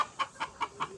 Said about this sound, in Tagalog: Napoy daghang manok